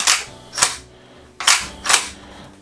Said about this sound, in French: Et il a l'air de faire un petit bruit sympa au niveau de l'armement déjà.